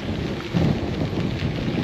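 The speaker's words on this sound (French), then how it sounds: "je sais pas si vous entendez dans le micro de la GoPro, mais il y a énormément de vent" Strong headwind buffets a GoPro microphone during gravel cycling beside a canal, making a constant loud roaring rumble with gusty swells and no talk.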